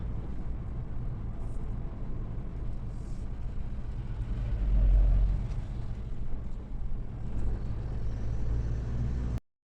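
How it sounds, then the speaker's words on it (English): A big truck rumbles along a winding coastal road on Senja island, Norway, with a steady low engine drone that swells as it passes close by, then fades; no voices are heard. "Fancy meeting a lovely big truck here."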